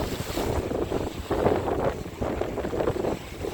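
Trawler boat engine rumble mixed with wind buffeting the microphone and splashing water, a continuous noisy drone crossing open water to Hatiya Island, Noakhali.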